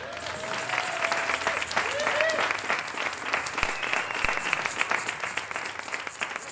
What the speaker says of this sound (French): Donc on applaudit pour elle.